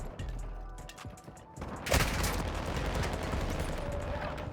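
Shotgun fire in the video game Modern Warfare 2, a few loud sharp blasts with busy crackling gunfire and game noise following, no clear talking.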